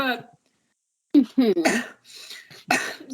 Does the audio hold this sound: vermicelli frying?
no